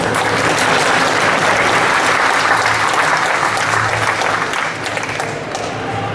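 A large audience at a Japan Expo Bioman event gives loud, sustained applause and an ovation, dense clapping filling the hall steadily with a slight dip near the end.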